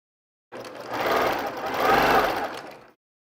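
A sewing machine runs steadily, stitching together the pieces of a jelly roll quilt, its motor whirring loud and close for a couple of seconds with a slight swell midway, with no voices over it.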